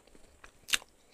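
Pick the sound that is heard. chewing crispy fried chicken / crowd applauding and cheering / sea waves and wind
chewing crispy fried chicken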